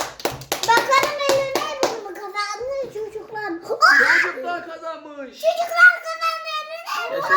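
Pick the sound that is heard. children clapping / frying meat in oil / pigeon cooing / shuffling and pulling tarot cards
children clapping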